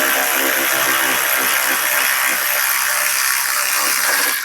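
Socket wrench ratcheting on strut studs of a Ford Explorer during strut replacement, a loud, dense run of rapid clicking that continues steadily for several seconds up close, then stops abruptly.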